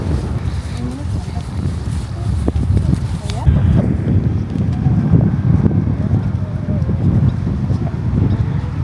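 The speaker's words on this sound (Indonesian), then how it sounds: "Kenceng banget anginnya." Strong wind at an artificial beach in Delfzijl, Groningen, roaring steadily as low, rushing buffeting against the microphone, loud and constant, with people talking over it.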